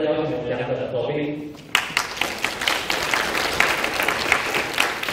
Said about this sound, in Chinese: 让我们用最热烈的掌声邀请我们两个的左邻